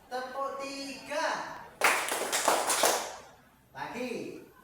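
Schoolchildren in a classroom do a counted rhythmic clap. A roughly one-second burst of rapid, close clapping sits between stretches of an adult speaking.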